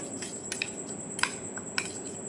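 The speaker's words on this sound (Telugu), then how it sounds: "స్పూన్ తోటి బాగా ఇట్లా కలిపేసుకోవాలి" A spoon stirs a homemade hair remedy of curd in a bowl, producing a few sharp metallic clinks and scrapes at irregular intervals over a quiet background, heard close.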